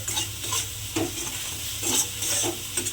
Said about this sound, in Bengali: দিয়ে আবারও মশলাটা কিন্তু খুব ভালোভাবে মিশিয়ে নিতে হবে